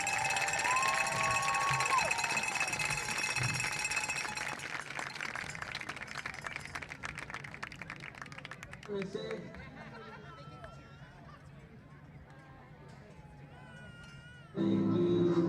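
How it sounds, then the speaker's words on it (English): Crowd noise at a high school football game between Brazos Christian and Rosehill Christian, a loud sustained roar of cheering and chatter that gradually thins into softer murmuring, with a fresh burst of noise at the very end. "give me a huge round of applause to our class of 2026 band, cheer, and football seniors"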